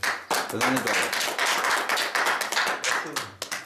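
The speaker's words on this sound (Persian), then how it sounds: "کف زدن برام. بزنید." An audience claps for Ali, a speaker sharing his recovery story at a meeting in Aligudarz, Lorestan. Brisk, close group clapping runs throughout, with voices heard faintly underneath.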